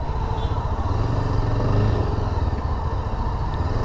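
A Yezdi Adventure motorcycle engine drones loudly and continuously while riding, a steady low rumble with wind noise throughout and no pauses.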